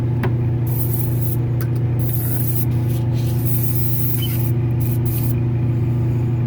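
An airbrush sprays gloss black paint onto a sculpture with a continuous close hiss over a steady low compressor hum, broken by a few brief pauses in the spray.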